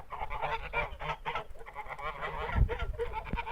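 A flock of geese honking continuously, many overlapping calls close by, loud and busy with a few sharper bursts.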